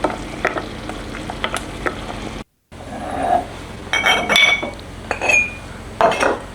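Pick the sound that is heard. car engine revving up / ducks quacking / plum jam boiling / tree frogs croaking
plum jam boiling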